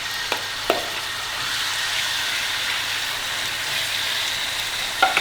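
Chicken pieces frying in a little oil in a kadai give a steady, moderate sizzle throughout, with a few brief clinks near the start and end.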